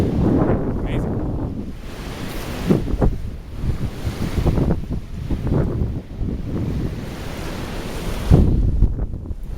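Ocean waves wash onto a secluded Hawaii beach under steady gusting wind, the surf rolling in loud, broad surges with a brief voice speaking once.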